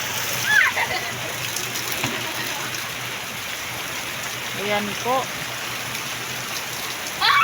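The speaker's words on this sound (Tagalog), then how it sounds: "ang lakas talaga ng ulan po" Heavy rain from Typhoon Kristine pours down in Malabon as a steady, dense hiss of drops splashing on surfaces, with someone speaking briefly over it.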